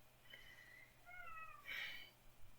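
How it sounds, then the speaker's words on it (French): An indoor house cat complains with a few faint, drawn-out meows, ending in one sharper, louder cry, over quiet room hum. "c'est mon chat qui râle parce qu'il veut que je joue au laser avec lui."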